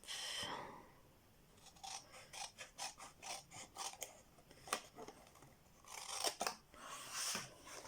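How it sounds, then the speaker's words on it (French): Scissors cutting paper for a handmade mini album: a run of crisp, close snips in quick rhythm, a pause, then a few more sharp cuts. The cuts are fairly quiet and there is no speech. "Et on va couper."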